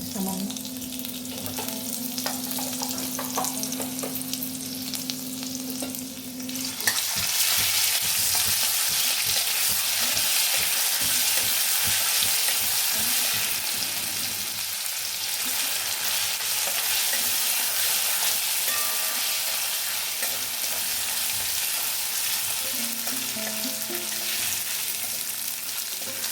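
Ginger garlic paste hits hot oil in a pan and bursts into a loud, continuous sizzle after a quieter opening, with stirring scrapes throughout and no talk over it.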